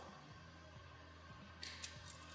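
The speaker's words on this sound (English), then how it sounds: "So we'll trim down our wire." Welding wire being trimmed with cutters while setting up a Lincoln Power MIG 140 MP welder, giving two or three sharp, close snips late in the clip over a low steady hum.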